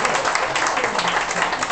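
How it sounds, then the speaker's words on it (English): Audience applause for a comedian at a live comedy show in a bar, a loud, dense and continuous burst of many hands clapping close by, filling the whole moment. "Let's have a round of applause for Colin."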